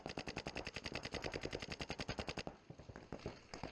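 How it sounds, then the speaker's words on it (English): Paintball marker fired in a fast, even rapid-fire stream during a tournament match on an NXL Florida 2022 layout, loud and close, then a few scattered shots in the distance, with no talk. "Gonna shoot him out."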